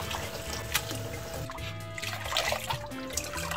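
Blanched water parsley (minari) is tipped into a colander to drain. Hot water trickles and splashes close by for a few seconds, with dripping as the liquid runs off.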